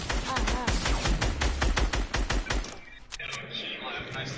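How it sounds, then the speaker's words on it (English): Rapid bursts of video game gunfire, loud and dense, crack in a fast volley for about two and a half seconds before giving way to a quieter stretch of game ambience. "Oh god, here's shots. Of course there's shots"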